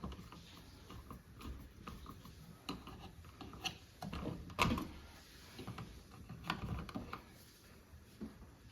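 A Phillips head screwdriver turns screws on a single pole smart light switch in a wall box, making soft intermittent clicks, scrapes and small ratcheting ticks. The sounds are faint and close, with a few slightly louder knocks in the middle.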